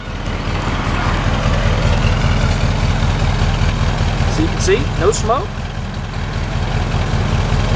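A 1948 Ford Super Deluxe Coupe's flathead engine idles steadily through its original single exhaust with a low, even rumble throughout, while someone talks over it.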